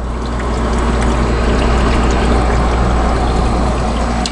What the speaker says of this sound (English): There's water sloshing around in there.